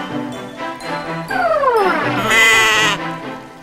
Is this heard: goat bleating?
yes